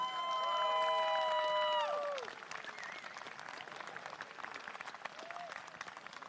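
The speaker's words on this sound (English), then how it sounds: "As you can hear, the German audience overjoyed with this win as well. A big applause all around." A short tonal chime fades out, then a distant racecourse crowd in Munich, Germany claps and applauds steadily after a horse race win, fairly faint.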